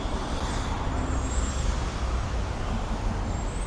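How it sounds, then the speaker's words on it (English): Street traffic rolls along Hollywood Boulevard in Los Angeles as a steady, close roar of passing cars and engines that never lets up. "Look at, here's traffic."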